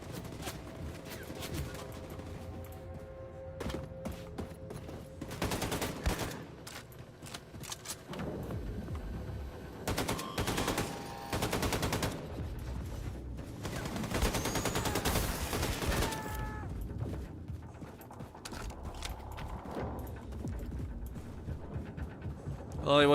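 Gunfire from Wolfenstein: The New Colossus breaks out in several loud bursts and volleys of rapid shots, separated by quieter stretches, with voices speaking now and then throughout.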